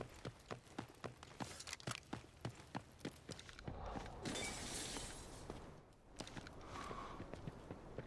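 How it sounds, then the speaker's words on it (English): Footsteps in the shooter game Delta Force thud in a quick, regular run of hard steps, then a harsh crunching burst of noise before the steps resume, all fairly faint. "There's footsteps up there."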